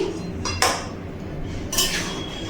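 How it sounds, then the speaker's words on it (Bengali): Pan contents of mixed vegetables and warm water being stirred, with two sharp utensil clinks against the metal pan over a low, steady background. "সবজির সাথে জলটা ভালো করে নাড়াচাড়া করে মিশিয়ে নিচ্ছি।"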